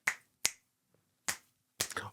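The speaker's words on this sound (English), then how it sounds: "whatever that makes that person snap their fingers instead of doing a clap" Finger snapping during a podcast conversation, four crisp, close snaps spaced irregularly over two seconds in an otherwise quiet room, the last one a quick double.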